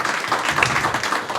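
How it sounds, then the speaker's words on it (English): An audience claps for John Peel during a talk on a book tour, a brief steady burst of moderate applause without speech. "So we get a round of applause for John Peel,"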